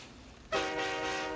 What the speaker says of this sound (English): I can either click down here or I can use my W button to do the whistle.